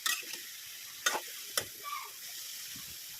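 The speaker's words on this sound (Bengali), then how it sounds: "এখন আবার একটু লাড়া দিয়ে দিব" Leafy greens with thin stems (small data shak) stir-fried in a pan, with a few distinct scraping stirs against a soft, steady low sizzle; close and moderately quiet, no talking.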